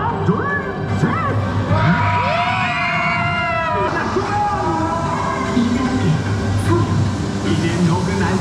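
A crowd of children at Legoland shouts and cheers loudly together on a count of three, the excited voices rising and overlapping over a busy, echoing background.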